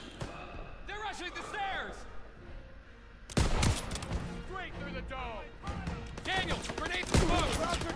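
Call of Duty WWII battle gunfire: repeated sharp rifle and machine-gun bursts, some loud and close, scattered over eight seconds under constant shouted voices and clanking.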